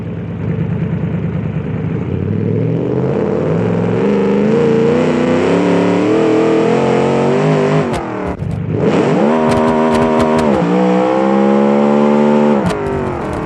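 Twin-turbo car engine in the BeamNG video game revving hard, a loud buzzing roar climbing in pitch, a brief cut, then revving again with sharp crackles and pops.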